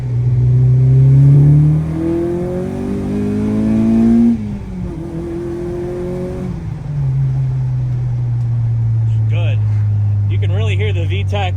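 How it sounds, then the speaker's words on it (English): An Acura RSX Type S engine revs hard through the gears, rising in pitch, dropping at each shift, then climbing again, close and loud from inside the car, with someone talking over it near the end. "Hear the VTEC cracking."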